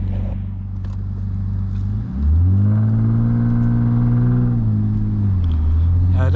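A Lexus IS250 with a P0420 fault code driving slowly through a snowstorm, engine humming low then rising in pitch as the throttle is eased on and holding a steady close drone before settling.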